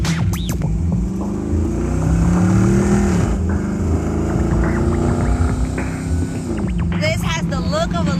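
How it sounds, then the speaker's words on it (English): A loud hot rod engine in an Impala rumbles and revs steadily up close, its pitch rising and falling, with voices talking over it. "the engine of a hot rod"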